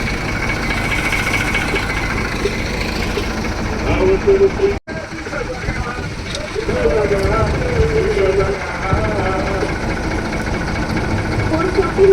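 A tractor engine idles steadily close by, a low, throbbing rumble that runs throughout with a brief cutout partway, voices faintly underneath.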